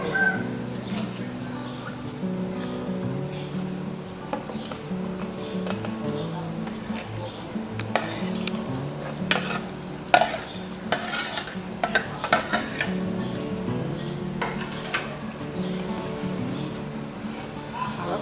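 A spoon stirs a pot of coconut jelly mixture with palm sugar as it cooks, repeated close scraping and knocking strokes over a low simmering bubble, with no one speaking.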